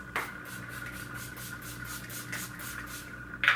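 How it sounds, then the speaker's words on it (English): Steady fine hissing spray of a face mist bottle runs across the whole stretch with soft pulsing bursts, close up, ending in a brief louder spritz. "I'm going to start by spraying my face with the Pixie Glow Mist."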